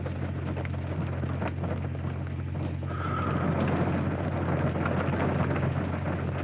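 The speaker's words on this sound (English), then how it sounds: "It's raining now, man. It's raining now." Steady rain falls in a dense, even hiss outdoors beside a truck, with a faint tone rising briefly midway and no one speaking.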